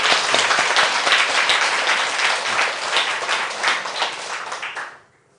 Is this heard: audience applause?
yes